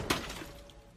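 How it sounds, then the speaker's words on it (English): A single sharp crack of shattering glass as a rifle shot strikes a car's side mirror in a parking lot, a brief loud burst with a faint tinkling decay after it. "The bearded man heard glass break"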